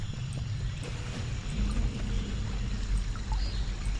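Steady low rushing and lapping of water in the video game SkySaga, like a stream or waves, continuous and moderately loud with a faint trickling texture on top.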